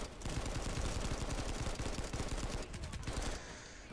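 A TAC-5 burst gun fires in the video game Planetside 2, making a rapid, loud rattle of close shots that runs for about three seconds before easing off.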